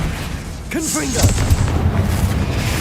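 Confringo blasting curse from Hogwarts Legacy, a short spoken incantation followed by a single booming fiery explosion that rumbles and crackles briefly.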